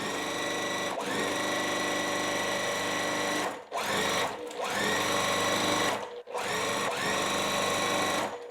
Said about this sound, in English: What I'm going to do is come over here and sew on to this part.